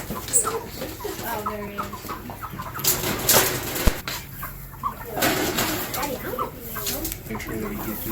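Cornish Cross chickens clucking intermittently at close range during backyard processing, with scattered clucks, some wing flapping and people talking at times.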